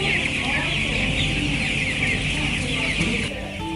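A dense crowd of about 1,500 broiler chickens clucking and murmuring together in a coop, a steady, continuous din, close by and fairly loud, with no pauses.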